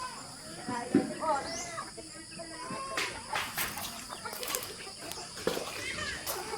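Chickens cluck and call softly amid a busy farmyard, with scattered bird chirps and light background noise.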